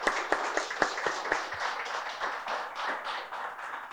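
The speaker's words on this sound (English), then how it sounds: "So let's give everyone a round of applause again." Audience applause for storytellers at a school storytelling event, a burst of sharp close claps that thins out into scattered clapping over a few seconds.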